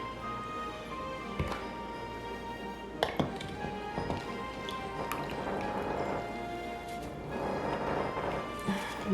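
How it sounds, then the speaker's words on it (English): Lemons packed and pressed down into a glass jar for preserving make a series of irregular taps, clinks and small drips of juice, close up and fairly quiet, with occasional sharper knocks. "I'm gonna put my jar in here while I push, because I don't want to lose the liquid, and I know it's gonna come out as I push"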